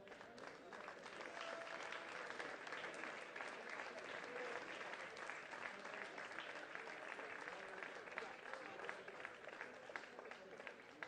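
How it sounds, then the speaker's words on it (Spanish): Steady, sustained applause from a crowd fills the air at the award ceremony of the II Clásica Estella Lizarra cycling race, dense and even throughout without pause. "Ese aplauso."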